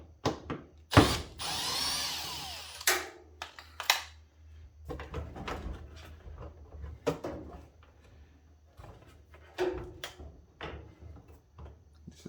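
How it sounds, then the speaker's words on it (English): A power drill backs a screw out of a Samsung dryer during a no-heat repair, with a few short bursts of whirring and clicking and scattered handling clatter close by. "there's another screw down here I'm gonna remove"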